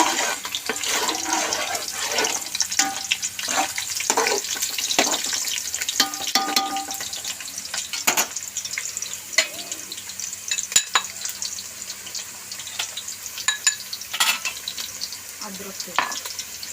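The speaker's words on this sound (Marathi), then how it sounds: "हे बघा, कांदा लाल होत आहे." Onions frying in a pan for chicken biryani, with turmeric, salt, yogurt and onion-coconut paste added, give a steady close sizzle broken by frequent stirring scrapes and clinks, with no talking.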